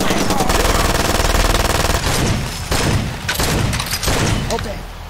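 Rapid automatic gunfire from the video game Far Cry 2, a dense loud burst of shots followed by scattered heavier reports and explosive booms.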